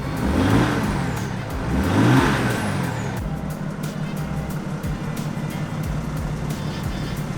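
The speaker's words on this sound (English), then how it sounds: "You can hear the turbo spool, but you'll hear it even more with the hood stack." A hood-stacked, tuned diesel Mercedes revs in two strong surges as the turbo spools, then settles into a loud, rough idle with sharp exhaust pulses, close by.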